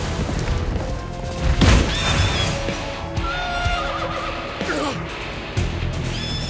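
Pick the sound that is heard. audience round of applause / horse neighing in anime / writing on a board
horse neighing in anime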